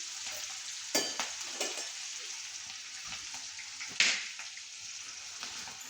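Spices sizzling in hot oil as a tadka for a green chili cabbage curry, a steady crackling hiss with a couple of sharper bursts as ingredients hit the pan, no voices.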